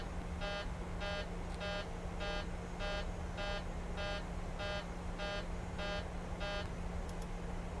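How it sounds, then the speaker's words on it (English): Cockpit alarm in a flight simulator game, a regular repeating buzzing beep pulsing about every 0.6 seconds over a steady low hum, faint and continuous. "I really wish that alarm would go away"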